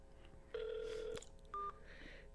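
Touch-tone keypad beeps sound as a cell phone number is dialed: a longer tone, then a short higher one, fairly quiet, with faint background noise between.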